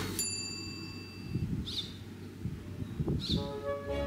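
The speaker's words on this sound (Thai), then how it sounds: "มีเสียงนกร้องให้ฟังอยู่เรื่อยๆ" Birds call around a quiet Thai house in the daytime, with two distinct chirps rising over a steady low background murmur, fairly close and clear.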